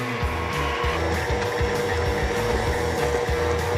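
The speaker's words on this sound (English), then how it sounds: "Lori has finally given me permission to use her KitchenAid mixer" A KitchenAid stand mixer kneads pizza dough with a steady, loud motor whir and a repeating low churning thump as the dough turns, continuous throughout with no talk.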